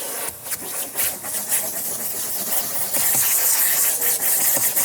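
A pet hair rake scrubbing across car upholstery during interior detailing gives a steady, close, loud rasping scrape with repeated strokes and no talk.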